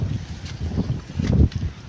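A strong, heavy wind sweeps over a cotton field in a steady low roar and buffets the microphone, with no voices.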